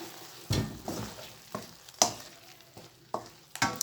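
Noodles with sweet soy sauce are stirred and fried in a pan, with a soft sizzle broken by a series of distinct scraping and clattering stirring strokes, close and fairly quiet.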